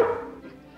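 A single short bark from the cartoon collie Lassie in an old animated series, sharp at the start and quickly fading, heard alone without talk.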